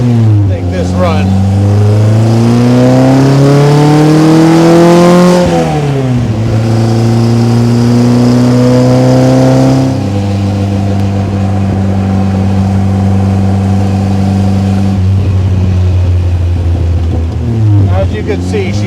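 A 1955 Austin-Healey 100S tribute engine cruising in fifth gear on New Mexico straights, a loud steady drone with rising and falling revs and gear-related pitch shifts, heard from the passenger seat with no talking.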